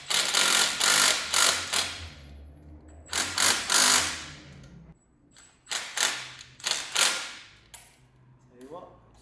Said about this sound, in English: So undo the downpipe bolt, which is M5.